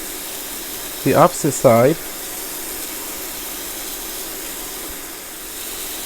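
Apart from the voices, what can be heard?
cheeseburger patties sizzling in a pan on medium-high heat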